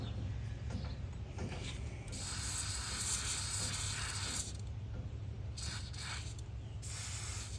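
Aerosol spray can hissing in bursts as lubricant is sprayed into a Economy Jim Dandy tractor transmission, mixed with gear and ratchet rattling over a steady low hum, fairly close.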